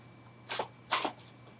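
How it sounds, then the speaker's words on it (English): Two brief rustling bursts of a tarot deck being shuffled, close and quiet, over a faint steady hum. "So your client shuffles the cards"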